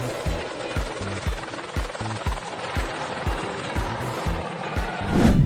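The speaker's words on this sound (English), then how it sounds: "Sri Amarnath Yatra helicopter emergency landing." A helicopter coming in for an emergency landing at the Sri Amarnath Yatra pilgrimage site, its rotor thumping in a steady loud rhythm with a roaring engine, swelling in a burst near the end.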